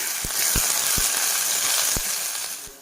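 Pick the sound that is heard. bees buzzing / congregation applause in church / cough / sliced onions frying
sliced onions frying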